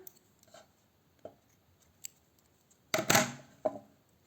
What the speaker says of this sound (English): now I will just chain 1 and cut the yarn